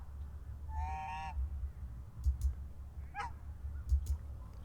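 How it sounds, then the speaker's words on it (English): Wild geese at Buffalo Trace park give two or three distinct honks, one loud and nasal and another shorter and higher, at moderate distance over low rumbling wind and ambient noise. "we were greeted by wild geese"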